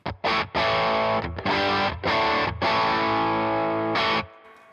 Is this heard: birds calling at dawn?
no